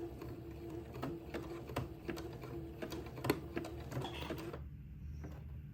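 A sewing machine runs a zigzag stitch attaching lace to entredeux on a Christmas dress, its needle ticking in a quick, even mechanical rhythm at close range before stopping near the end.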